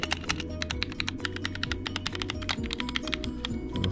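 Fast, steady typing on a freshly cleaned 60% Walmir K66 mechanical keyboard with Silent Red switches, a dense run of soft, damped key clacks heard up close with no talking.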